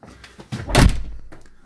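A door in a recording studio, on the way to the drum room, opens or closes with a single muffled thud that swells and fades over about a second, with faint room noise before it.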